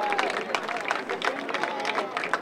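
Crowd at an outdoor marching-band competition applauding a music group, a dense, continuous patter of many hands mixed with crowd babble.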